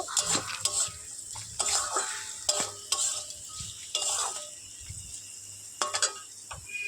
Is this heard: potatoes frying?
yes